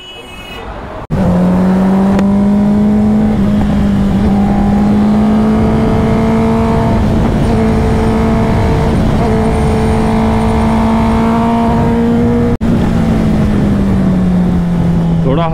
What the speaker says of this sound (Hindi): आज होगी हमारी CBR पे राइड।